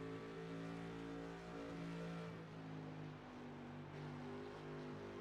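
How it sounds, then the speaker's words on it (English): A V8 GT3 race car engine in iRacing, holding a steady high-revving drone with a brief dip as it decelerates before pulling again, loud and alone without talk. "that creamy, grunty V8"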